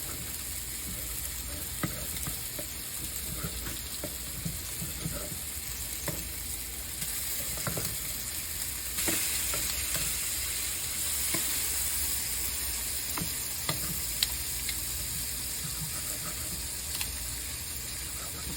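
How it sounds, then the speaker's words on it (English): Chicken strips sizzle steadily in a skillet, a continuous close hiss and crackle with occasional clinks and stirring sounds throughout. "cut them in strips, and put it back in the skillet and cook them the rest of the way"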